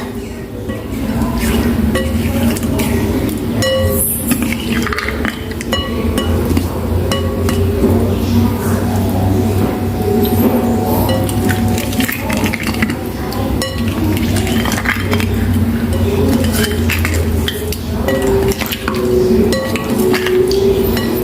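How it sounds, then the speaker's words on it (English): A spatula gently nudges tofu curry in coconut milk around a pan, giving repeated close metallic clinks and scrapes over a constant busy background. "I'll be using like a spatula to slightly move it around so it doesn't break"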